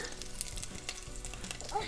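Food sizzles and crackles steadily in a pan, a continuous hiss with small pops, close and moderately quiet, with no talking.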